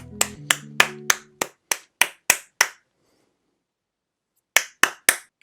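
Hand claps ring out alone in a quick series of about ten sharp, close slaps, then a pause of nearly two seconds before four more claps; a low tonal chime sounds faintly at the very start.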